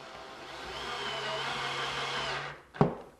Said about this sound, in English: I use my 3/4-inch pan head screw, and I'll drill down into the top shelf